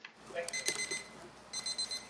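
A timer buzzer sounds in a legislative committee hearing on justice ministry estimates, marking the end of a speaker's allotted time: a faint, short electronic alarm burst, a pause, then a second tonal beeping burst, with no talk over it.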